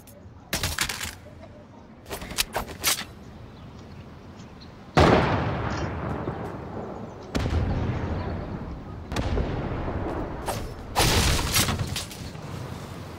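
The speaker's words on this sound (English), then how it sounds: "Grenade!" Grenade blasts and gunfire in the Fortnite battle royale game ring out as several loud, sharp bursts with long rumbling decays, spread across a chaotic firefight while players talk over it.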